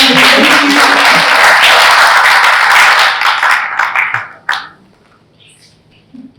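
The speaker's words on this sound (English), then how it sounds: "Please, can you give us a round of applause?" Applause from an audience at a training workshop: dense, steady clapping fills the first three seconds, thins out and ends in a few scattered claps, with a short quiet tail.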